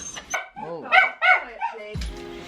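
A small puppy lets out several close, high-pitched yapping barks in quick succession, with a deeper rumble or thump near the end.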